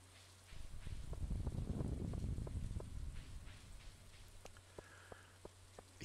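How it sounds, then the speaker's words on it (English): Rain falls in the Stardew Valley video game, a soft hiss that swells and then fades. Scattered light drip-like taps follow, all at a fairly faint level with no voices. "fishing in the rain"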